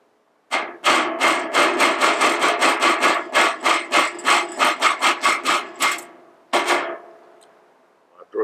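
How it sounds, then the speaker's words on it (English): Steady rapid hammer taps driving 1/8 inch pins out of a gun bolt, about twenty sharp metallic blows in a regular rhythm, close and loud, then a pause and one final strike. "I've driven both the pins out."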